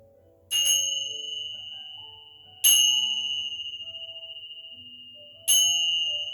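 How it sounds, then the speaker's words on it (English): Three bell strikes during a chair yoga relaxation, each a bright ringing tone with a clear attack that decays slowly over a couple of seconds before the next, heard alone without talk. "Let your mind, your body, and your soul absorb the vibrations of the bells"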